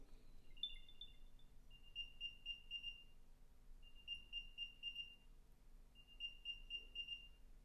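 An Apple AirTag plays its locating chime, a quiet close series of bright rapid electronic tones in repeating bursts, separated by short pauses against near silence.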